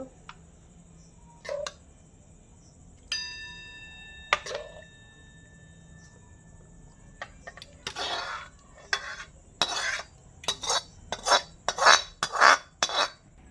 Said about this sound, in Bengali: আমি একটা পাত্রে ঢেলে নিচ্ছি